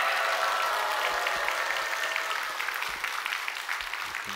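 A church congregation in Gunsan, Korea cheers and applauds together in a dense, loud, sustained wash of clapping and shouting that holds steady for several seconds before easing slightly toward the end.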